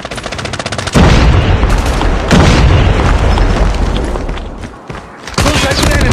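Call of Duty Mobile multiplayer gunfight with a Semtex grenade blast: loud booms and bursts of automatic gunfire fill the scene, with in-game voices heard over the combat.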